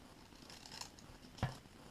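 Fringe scissors snipping through paper, faint quiet rustle followed by a single short, sharp cut near the end.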